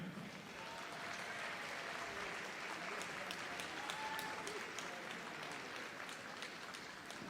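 An audience at the Crufts 2020 dog show, during Utility Group judging, keeps up steady, even applause for a Tibetan breed, filling the whole stretch with a broad wash of clapping.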